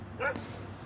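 One dog gives a short, fairly near bark or yip that lasts a fraction of a second against a low background hum.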